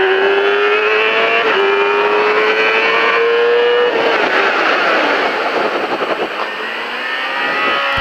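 A motorcycle ridden hard on a racing circuit, its engine whining loud and close as the pitch climbs through the gears, then dipping and rising again through a corner.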